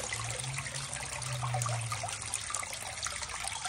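Water draining out of a one-gallon Bambi bucket, a steady, fairly faint rushing splash that runs continuously through the short stretch with no talk.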